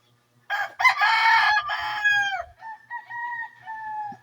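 A red junglefowl rooster caught in a trap crows once loudly and close, a harsh drawn-out call that trails into a thinner wavering tail, with faint clucks and rustling underneath.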